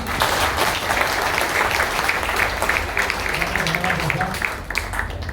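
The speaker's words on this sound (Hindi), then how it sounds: "एक बार जोरदार तालियां" Loud, sustained applause from an audience at a Brahma Kumaris ashram gathering, steady clapping throughout with some voices mixed in under it.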